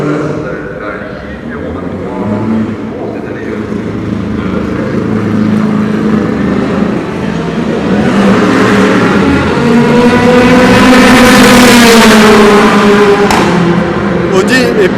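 Race cars during Le Mans 24 Hours qualifying, engines rising and falling as they pass, building to a loud high-revving sweep near the end, with commentators talking throughout.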